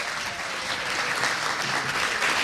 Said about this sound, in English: You give yourselves a round of applause.